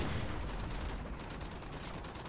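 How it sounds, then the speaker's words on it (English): Rapid sniper rifle fire in Modern Warfare 2, a dense, loud, continuous barrage of overlapping shots and battle noise filling the whole stretch without pause. "We're sniping a bit."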